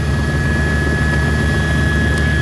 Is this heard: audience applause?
no